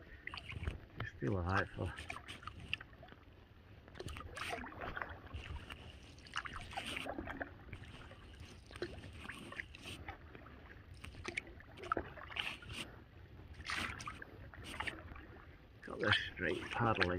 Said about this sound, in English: Got this straight paddling down on the one side anyway.